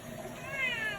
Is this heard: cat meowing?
yes